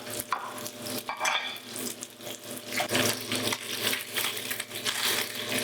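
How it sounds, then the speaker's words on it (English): Salmon sears in very hot oil in a Teflon pan, giving a steady close crackling sizzle with scraping and stirring bursts throughout, no talking. "So you see the oil is very hot, so that is going to help the salmon to get a nice brown color and to sear the salmon."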